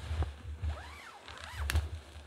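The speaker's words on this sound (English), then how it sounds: "Now I'm going to go ahead and zip the hammock back up just for a second." Zipper on a dark green OneTigris Kompound hammock being pulled closed, two quick sweeping zips in sequence, fairly quiet and close, no talking.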